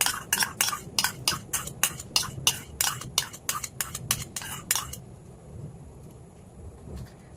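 A spoon stirs melted butter through crushed biscuit crumbs in a bowl for a strawberry cheesecake base, with a quick run of close, crisp scraping strokes that stops halfway and leaves quiet room noise.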